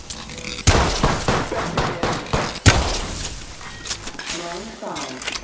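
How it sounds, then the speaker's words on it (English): Rapid gunfire bursts in the battle-royale video game Apex Legends, loud repeated shots and impacts running through the whole stretch while a player talks over them. "Getting shot at."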